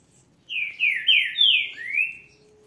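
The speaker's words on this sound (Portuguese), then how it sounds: "Um monte de pardal passando aqui." A flock of sparrows passes close by, giving five bright, quick descending chirps in a row over a quiet background, with no talking.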